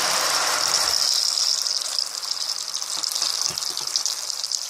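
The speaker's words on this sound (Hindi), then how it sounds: "अब हम इसके अंदर अपने टमाटो की जो हमने ब्लेंड किए थे उसको ऐड कर देते हैं" Blended tomato purée poured into a sautéed garlic-ginger paste for a Mughlai chicken dish, giving a steady hissing sizzle and gush with a wet splatter, close and fairly loud, fading slightly toward the end.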